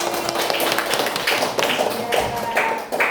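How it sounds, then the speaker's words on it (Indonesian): A classroom of pupils claps for a classmate, a burst of scattered, fairly close hand claps in uneven rhythm, with voices speaking over and between them. "tepuk tangan untuk Saci."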